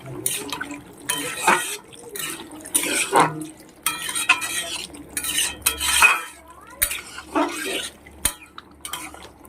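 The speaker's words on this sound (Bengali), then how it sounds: "এবার আমি জল দিয়ে দেবো" Water goes into a pan of frying potatoes and ridge gourd in a home kitchen, with metal utensil clinks, stirring scrapes and splashy liquid sounds coming in close, irregular bursts.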